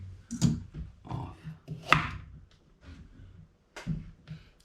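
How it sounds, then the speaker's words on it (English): A knife chops through the tough end of a raw carrot on a cutting board while soup vegetables are prepared, giving a few sharp, close cutting thuds spaced irregularly with quiet gaps between. "Okay, now to the carrots. Cut the end off."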